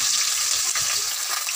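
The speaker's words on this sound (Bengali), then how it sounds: "আমার চিনিটা পেকে উঠে গেছে, তো আমি এবারে পেঁয়াজ দিয়ে দেবো।" Onions hit caramelized sugar in a pan while making chicken curry, producing a continuous loud hissing sizzle that stays even throughout the short moment.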